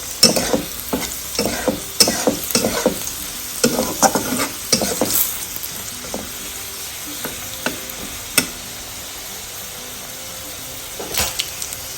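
Garlic cloves sizzle in hot oil with spices in a pan as a Bengali home cook works on a pumpkin and potato dish. A soft steady crackle runs under repeated scrapes and stirring taps, moderately close, with no talking.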